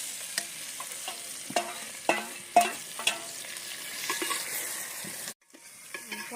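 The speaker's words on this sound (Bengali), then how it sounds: "এখন আমি ম্যারিনেশন করা চিকেনটা দিয়ে দেবো।" Marinated chicken fries with browned onions in a clay pot, a ladle clattering and scraping in sharp strokes over a steady sizzle, close up, then a brief pause before stirring resumes.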